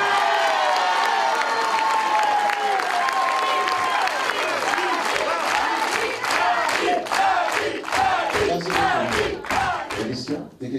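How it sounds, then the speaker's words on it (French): A cinema audience at a film crew's visit to a CGR theatre in Narbonne breaks into loud, sustained applause with cheers and shouts, dense crowd noise filling the room, with voices calling out throughout. "Je vous demande d'applaudir celui sans qui nous ne serions pas là ce soir, Danny Moon."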